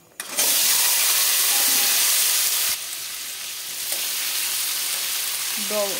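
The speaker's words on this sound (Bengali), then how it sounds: "দিয়ে দেবো পাঁচফোড়ন, দেবো অল্প হলুদ, আর আমি এই আলুটা দিয়ে দেবো।" Potato pieces dropped into hot oil with panch phoron and a little turmeric in a pan, setting off a loud, sudden sizzle that settles into a steady, close hiss.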